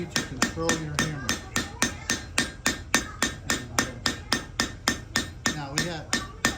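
Blacksmith's hammer striking metal at an antique engine and tractor show, a steady series of about twenty sharp, loud ringing blows in an even rhythm, close by and heard alone.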